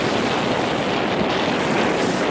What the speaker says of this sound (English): relatively calm ocean.